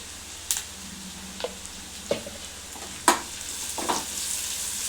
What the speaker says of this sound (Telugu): ఈ అల్లం వెల్లిగడ్డ పేస్ట్ పచ్చివాసన పోయేంత వరకు వేయించుకోవాలి.